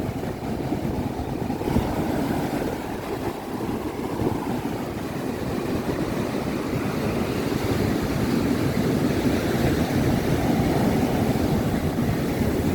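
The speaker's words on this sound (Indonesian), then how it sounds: "Ombake gede tenan iki. Ngeri ombake. Banter banget." Big ocean waves crash and roar loudly and continuously, a dense, steady surf rumble that fills the whole stretch without letup.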